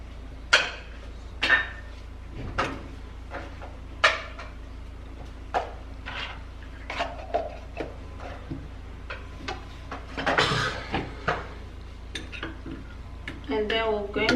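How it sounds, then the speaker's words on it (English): A spoon stirs petroleum jelly in a bowl, giving a run of scattered clinks and scraping knocks against the dish, loud and close, with short pauses between strokes. "And then we'll stir."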